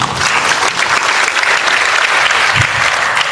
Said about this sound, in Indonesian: Tepuk tangan gitu.